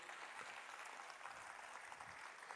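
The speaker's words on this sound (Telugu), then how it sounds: "ఒకసారి గట్టిగా చప్పట్లు కొట్టండి." Applause from an audience at a Telugu community gathering, a steady crackling wash of hand claps filling the whole stretch, fairly faint and distant with no voices over it.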